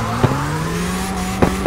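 A Mitsubishi Lancer Evo X in CarX Drift Racing holds a steady engine drone, broken by three short sharp backfire pops spaced across the moment.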